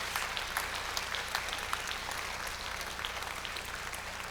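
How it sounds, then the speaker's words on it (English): Audience applause following a Buddhist Dharma talk on Tong-len at a Sakyadhita conference: steady, dense clapping from a crowd, moderately distant and even throughout, with no voices over it. "maybe we could give her a big applause"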